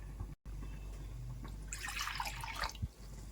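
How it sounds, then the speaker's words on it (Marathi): Hot water splashes and trickles into a mortar for a few seconds, a steady liquid pour rising in brightness near the end, close by. "गरम पाणी आपण याच्यात टाकू खलबत्त्यामध्ये"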